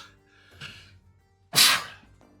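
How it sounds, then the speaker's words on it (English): A single loud, sharp sneeze bursts out close by after a brief inhale and a soft earlier breath, then fades into quiet. "I'm going to sneeze."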